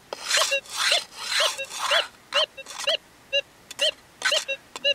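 A Gold Monster 1000 metal detector, set some distance from the microphone, signals a tiny gold nugget with repeated short warbling tones. The tones come in uneven bursts over scraping and rubbing noise.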